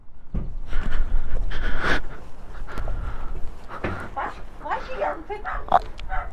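A dog barks and whimpers in short bursts, with yips scattered through, near and fairly loud.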